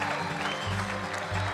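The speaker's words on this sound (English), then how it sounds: "give yourselves a big round of applause" Audience applause at the Music City Roots live radio showcase in a barn: a dense, continuous wash of clapping from a crowd, loud and sustained, with a steady low hum underneath.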